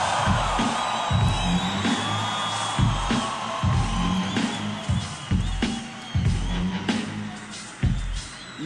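Large festival concert crowd at João Rock 2018 in Brazil, shouting and cheering in loud repeated surges over a pounding live band beat.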